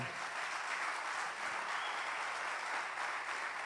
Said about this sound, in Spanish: Alguien dale un aplauso al Señor.